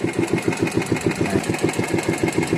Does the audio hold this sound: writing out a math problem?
no